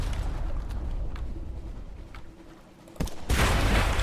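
A ship's cannon firing at an enemy in the video game Sunless Sea: a sharp, loud boom near the end, ringing out over a steady low rumble of ambient game sound.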